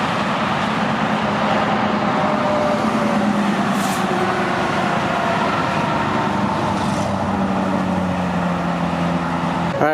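A car cruises along a Virginia highway, filling the cabin with a loud, steady roar of road and engine noise that is broken only by brief passing swooshes, with no voices.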